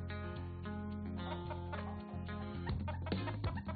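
Chickens cluck in the Farming World video game over a dense, continuous bed of game music and background tones, the fowl calls steady throughout rather than standing out alone.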